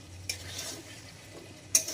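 A spoon works through meat curry in a pot over a low simmering sizzle, with two sharp metallic clinks against the pot rim standing out near the start and end.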